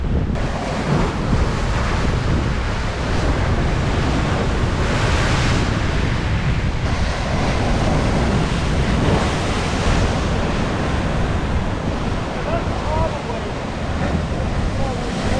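Large ocean waves surge and crash onto a Dominican Republic shoreline, a steady loud roar of surf churning with heavy wind buffeting the microphone throughout.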